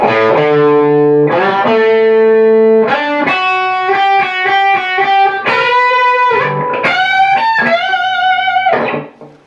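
A distorted electric guitar plays a harmonized lick, sustained notes shimmering with vibrato, loud and close, ending with a fading final note.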